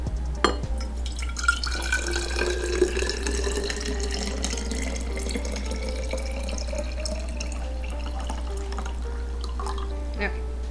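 Water trickles carefully into a glass potion bottle in a thin, steady stream, with a pitch that rises as the bottle fills, a few clinks of glass, and a faint hum underneath.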